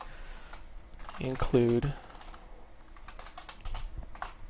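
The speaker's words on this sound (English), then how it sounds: "I've got my keyboard set up for Call of Duty Black Ops, so it's doing crazy things as I type" Computer keyboard remapped for Call of Duty Black Ops, used to type C++ Qt code. Rapid, close clicky keystrokes run throughout, with a brief spoken word in the middle.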